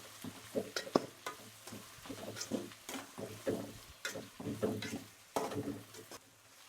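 Onions and vegetables sauté in an aluminium kadai for a white veg kurma, with a soft continuous sizzle broken by repeated scraping and stirring strokes, close and fairly quiet.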